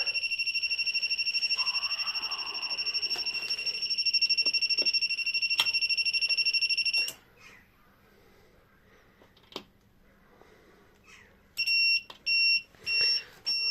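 A high electronic UPS overload alarm beeps continuously for several seconds when an angle grinder is connected, falls silent, then returns in short repeated bursts, close and piercing.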